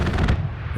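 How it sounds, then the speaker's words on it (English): Strafe run gunfire in Hell Let Loose on the Kursk map: a dense, loud burst of rapid shots and booms in the first third, fading into a rumbling tail. "strafe run goes through"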